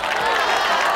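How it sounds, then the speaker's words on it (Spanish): Brief, thin wash of applause from a live show audience in Quart de Poblet, steady hand-clapping with some crowd noise throughout, fairly close. "Tercer dia consecutiu i l'aplaudiment és molt fluix."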